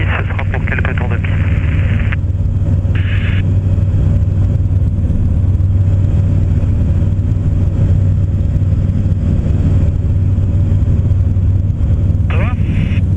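A light airplane engine drones steadily and loudly from inside the cockpit during takeoff at a small airfield for a few circuits, a constant low propeller hum with brief radio crackle bursts over it.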